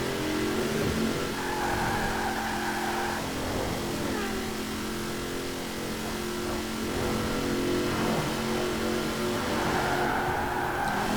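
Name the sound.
2020 Chevrolet Corvette Stingray accelerating in Forza Horizon 4 video game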